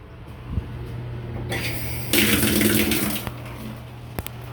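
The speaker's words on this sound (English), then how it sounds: "that's hot water that was coming out of there." Hot water runs from a shower tap in a bathroom, starting as a faint trickle, swelling into a louder hiss and splash midway, then dropping back to a low background with a few clicks.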